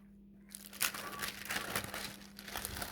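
Beeswax wrap is folded over inside paper in a kitchen, giving crisp crinkling and rustling over a steady low hum, close and continuous with no talking.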